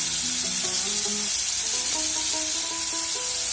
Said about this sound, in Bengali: তার মধ্যে দিয়ে দিলাম কুচানো টমেটো